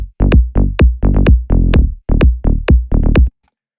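A mid-range synth bass line for minimal tech house bounces through short plucky notes in a syncopated pattern, each note with a sharp click on the attack, loud and dry, stopping cleanly near the end.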